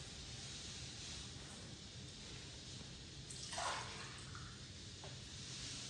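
Water poured into a pot of soaked rice for chana pulao, a steady broadband splashing stream running throughout with a brief louder gush midway, no talking.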